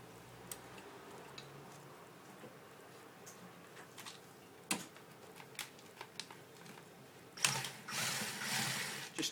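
A ratchet tightens starter motor through bolts on a Ford Transit: quiet, rapid clicking in irregular runs with a few sharper metallic knocks and a louder scraping burst near the end, close by.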